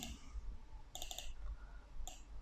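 A computer mouse double-clicks in an Excel spreadsheet, with a quick pair of sharp clicks near one second and another brief click a moment later over a quiet room hum.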